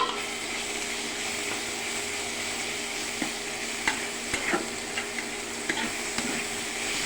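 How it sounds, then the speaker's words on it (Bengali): Shrimp coated in turmeric and salt sizzles with onion in hot oil in a pan, a steady close frying hiss broken by occasional scraping clicks of stirring. "পেঁয়াজের সঙ্গে ভালো করে ভাজা ভাজা করে নিব।"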